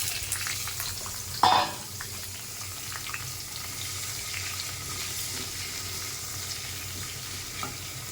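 Potatoes and papaya fry in oil tempered with whole spices, giving a steady, close sizzle with stirring. A sharp clatter lands near the start, and a fainter knock follows later.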